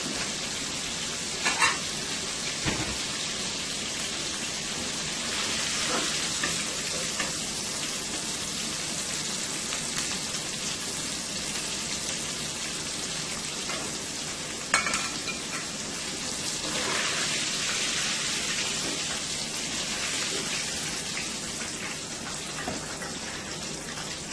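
Shrimp frying in hot oil for a Caribbean-style crispy fried shrimp, a steady broadband sizzle filling the whole stretch, with occasional clinks and scrapes as pieces are lifted out of the pan; no talking.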